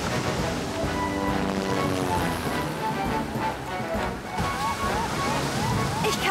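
Cartoon sea waves sloshing and surging near cliffs by a lighthouse, a continuous watery rush mixed with music and sound effects, with voices talking over it.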